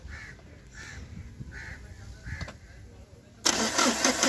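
A Mahindra Scorpio with a fuel injector back-flow leak turns over in a long crank, a near, repeated churning that runs for a few seconds before the engine catches and bursts into a loud running roar.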